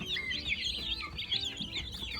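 Chicks peep in busy, high chirps alongside soft clucking from chickens on a farm in the evening, a continuous farmyard chatter at close range.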